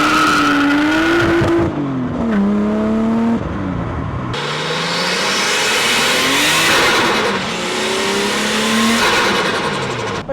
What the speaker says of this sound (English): that exhaust sounds good, but it's not very loud